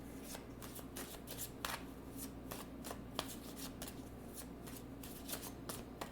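A deck of oracle cards is shuffled by hand, a soft, continuous patter of riffling and sliding cards with small sharp flicks, quiet and close, with no speech.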